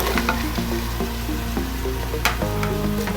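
Beans and carrots fry in a pan for a restaurant-style mixed vegetable dish, a loud close sizzle with scraping and clinking of a spoon stirring the vegetables, and no voices.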